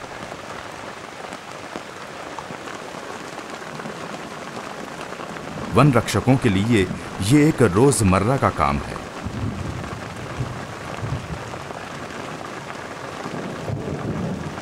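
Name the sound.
monsoon rain and thunder in Kanha forest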